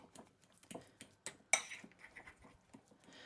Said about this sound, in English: So, just going to keep mixing this up.